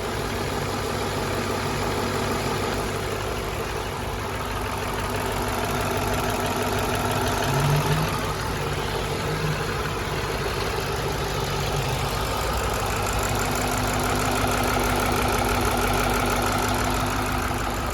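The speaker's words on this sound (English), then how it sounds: "So that's a good listen to it idling." A 2005 Ford Mustang GT with a V8 and 5-speed manual idles close up near the belts, a steady, loud, even rumble that holds unchanged throughout with no talk over it.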